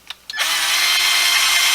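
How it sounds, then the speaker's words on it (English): A power drill fitted with a drill bit, used while installing a deer skull and horn European mounting kit, starts with two short clicks, then spins up into a loud, steady whine that runs on alone. "so what we're going to do, take this drill bit."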